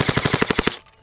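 A Semi-Auto Marauder air rifle fires a rapid string of about eight evenly spaced shots, punchy and close, before cutting to silence.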